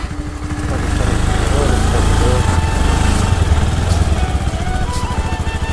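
A motorcycle engine cranks and catches, then settles into a loud, close, throbbing idle with a steady putter, while a person talks nearby.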